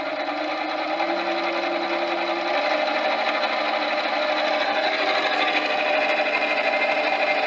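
A BSA B31 motorcycle magneto, fitted with electronic ignition, spins on a test rig with a steady whirring hum and a whining tone that shifts after a couple of seconds as the speed rises, close and continuous.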